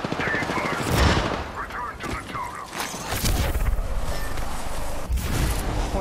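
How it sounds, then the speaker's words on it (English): Automatic gunfire in Apex Legends rattles in close bursts mixed with other in-game effects, while a voice talks over parts of the fight. "I am taking fire, friends."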